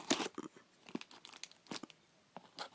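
Packaging around an elevator indicator, a ThyssenKrupp vandal-resistant hallway unit, is cut and torn open in a string of crisp crinkling, tearing bursts, close and fairly quiet, with no talking.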